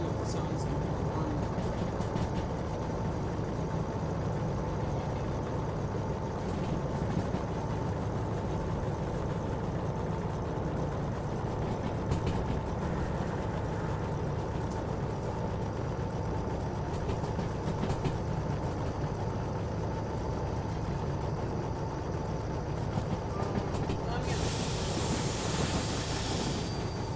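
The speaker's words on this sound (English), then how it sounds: "it's just a little steam engine" A small steam locomotive in the railway game Derail Valley gives a steady, continuous mechanical rumble and hiss at moderate level, with a voice talking over it at times.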